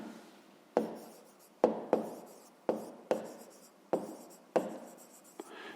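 A pen writes out a fifth-grade math exercise on paper, a series of about nine sharp tapping strokes with short scratchy tails, close and clear in an irregular rhythm with no talk.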